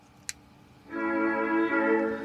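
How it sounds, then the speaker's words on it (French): Wedding march playing from a Tesla's DIY external pedestrian warning speaker, a sustained tonal melody starting after a short click and continuing steadily, fairly loud and close with no talking over it. "Le son 2, c'est la marche nuptiale."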